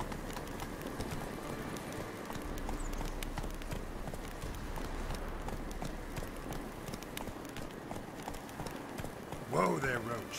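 Roach, Geralt's horse in The Witcher 3: Wild Hunt, gallops with a fast, steady clip-clop of hooves on ground, close and continuous, while voices talk over it faintly.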